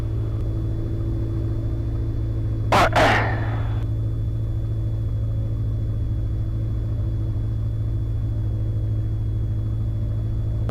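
A small plane's four-cylinder piston engine drones at a steady idle with a low, even hum, heard close from the cabin, broken once by a short burst of noise.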